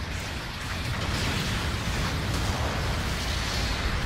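Explosions from the Gundam EZ8 mobile suit in GBO2 roar continuously, a loud, dense, rumbling barrage of overlapping blasts with no pauses or speech.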